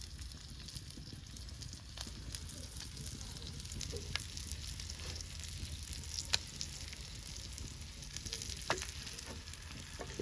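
Naan fries in hot oil over a jungle cookout fire, giving a soft, continuous sizzle with scattered crackles and pops, fairly quiet and without talk.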